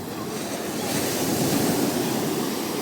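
Small, gentle ocean waves break at Ingleses Sur beach in Florianópolis, heard as a steady broad surf wash that swells slightly midway, with some wind noise and no speech.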